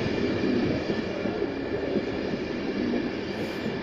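Train rumbling steadily through Doncaster station, a continuous loud low roar of wheels and engine that holds at an even level throughout with no voices.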